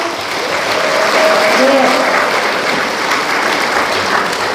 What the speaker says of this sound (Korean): 크게 박수 좀 해주세요